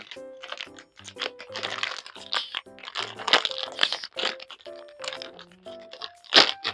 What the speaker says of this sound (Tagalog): Tara, buksan natin. Ang hirap buksan.